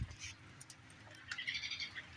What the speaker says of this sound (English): Listen to the birds.